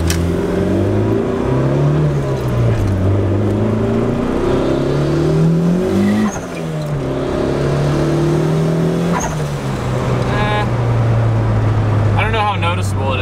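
A turbocharged car engine revs and climbs through gears during a wide open throttle pull, loud and close, with rising and falling pitch sweeps as it shifts.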